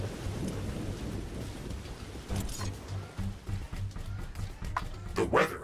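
Thunderstorm in The Riftbreaker video game, a steady rumbling wash of rain and low thunder with several sharp cracking bursts toward the end, voices talking faintly underneath.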